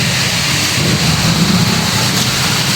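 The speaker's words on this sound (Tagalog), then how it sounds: "Nabutan pa kami ng ulan" Steady, dense heavy rainfall pours down continuously with a broad hiss, loud and close, with a low rumbling undertone throughout, caught while travelling on the road toward Santa Maria.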